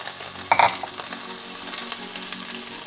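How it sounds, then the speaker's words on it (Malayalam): Okra fries in a little oil in a pan, giving a steady close sizzle with a brief clink of a utensil near the start. "എണ്ണ ഒഴിച്ചിട്ട് ഈ വെണ്ടക്കായ നമുക്ക് വറുത്തെടുക്കണം."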